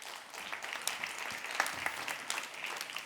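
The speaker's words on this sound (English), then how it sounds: "Big round of applause." Audience applause after a pitch presentation at an energy technology event: steady, dense clapping from a crowd, fairly close and sustained throughout, with no one speaking over it.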